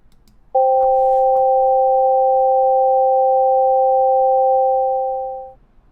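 A musical interval in equal temperament sounds as two pure sine-like tones held together for about five seconds, steady and clear, then fading out, after a couple of faint clicks.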